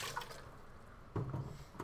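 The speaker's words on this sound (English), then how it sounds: "And then I'll just gently scrub them with the water that I got here." Gentle scrubbing with water, soft sloshing and dripping in brief bursts, close and quiet, with one slightly louder swirl partway through.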